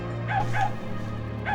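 A dog barking in the video game The Nightmare Before Christmas: Oogie's Revenge, three short yips at an even pace over a low steady game hum.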